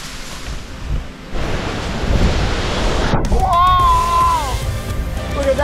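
A rushing waterfall inside a volcano gives a loud, broad roar that swells as it draws nearer and then holds steady, with a faint whistle-like tone sliding over it near the end.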